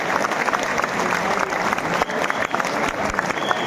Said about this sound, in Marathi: आणखी जोरात मनापासून टाळी वाजली पाहिजे